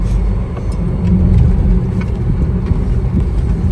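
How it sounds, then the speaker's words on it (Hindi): A car drives along a road with a steady engine drone and tyre rumble, loud and close from inside or beside the vehicle, without talk. "आजकल गाड़ी तो तेज चलाने लग गई है।"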